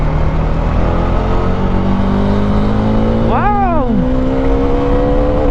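A McLaren 765LT sports car engine revs hard to its limiter, one sharp rising and falling sweep over a loud steady drone, with a voice exclaiming nearby.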